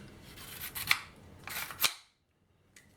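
A nail strip snaps into place in a budget Hyper Tough pin nailer, giving two sharp plastic-and-metal clicks close by, each following a short sliding rustle, then near silence.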